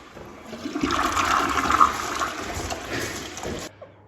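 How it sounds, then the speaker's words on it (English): A toilet with rusty-looking water is flushed in an old château, a loud rushing surge of water that swells, runs for a few seconds, then cuts off abruptly. "So we'll just flush it a bunch of times."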